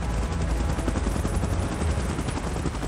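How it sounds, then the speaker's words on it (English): Helicopter in PUBG Mobile thuds close and loud, its rotor beating in a rapid, steady chop that fills the whole moment without talk. "Chopper in position."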